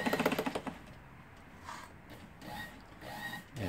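An early-1960s dress sewing machine, tested after needle-bar repair and fitting of a motor, starts with a quick burst of rapid rhythmic clacking, then slows to softer intermittent mechanical whirs and knocks, with no talk.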